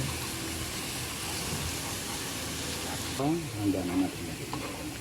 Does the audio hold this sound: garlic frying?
yes